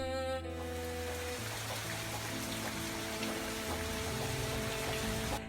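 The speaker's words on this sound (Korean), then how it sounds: "가을 빗속의 버스." Autumn rain falls steadily on a city bus in downtown Seoul, a dense, even patter that runs through the whole stretch, with a sustained tonal music-like layer on top and no talking.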